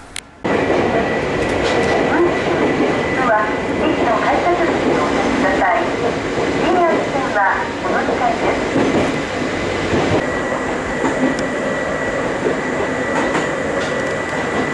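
Steady rumble of an Ohmi Railway electric train heard from inside the carriage, wheels clicking over joints and occasional brake squeals, with a faint voice now and then.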